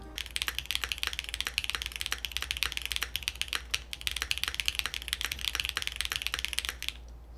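Rapid, steady typing on a QK65 Mk3 mechanical keyboard, a close clatter of crisp key clicks continuing without pause and with no voices.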